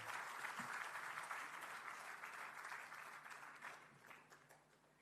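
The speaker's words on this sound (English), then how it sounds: "Please put your hands together and give him a round of applause." A crowd of guests at a community gathering breaks into sustained applause for an introduced speaker, a dense, even roar of many hands that gradually thins and fades, heard from a distance.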